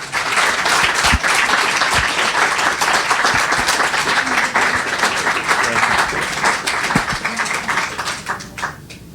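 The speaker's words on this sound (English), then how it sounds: "Let's please give one last big round of applause for Senator Carte Goodwin" A lecture audience gives a long, loud round of applause for former U.S. Senator Carte Goodwin at a Constitution Day event, sustained dense clapping with a few sharper claps, tapering near the end.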